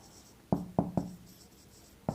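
Chalk or a marker taps and strokes on a board in a few short, close knocks, spaced irregularly over a couple of seconds.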